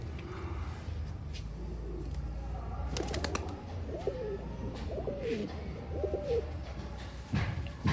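Pigeons from across the border, including a red pair and a Sialkoti hen, coo in faint low rolling phrases over a steady background hum, with a few sharp clicks midway.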